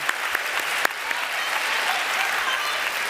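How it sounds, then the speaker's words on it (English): Audience applause at a political debate between Steve Bannon and David Frum: a dense, steady wash of clapping from a large room that holds evenly for about three seconds, with a few sharper nearby claps standing out. "Let's have a loud round of applause."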